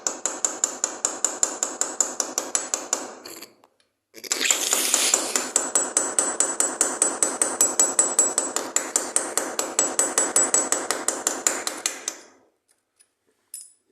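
A hammer gives rapid, even light taps on a drill bit held against ceramic tile. Metallic strikes run in two long bursts with a brief pause between them, close and crisp.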